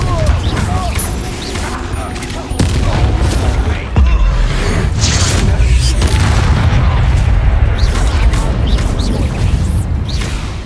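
Confringo fire spell explosions in the Hogwarts Legacy video game during a duel, a dense run of booming blasts and crashes over about ten seconds with speech mixed in throughout.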